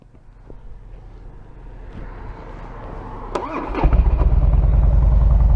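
A motorcycle engine cranks with a starter whir, then fires up and settles into a loud, steady idle close by.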